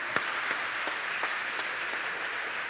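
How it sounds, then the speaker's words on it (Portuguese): A church congregation applauds continuously, a dense wash of many hands with a few sharper claps standing out, steady and moderately loud throughout. "Aplauda o Senhor enquanto eu vou fazer isso aqui"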